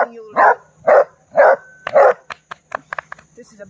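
A big Doberman puppy of about 95 pounds gives four loud, close barks at a steady beat. Quicker yips and clattering noises follow the barks.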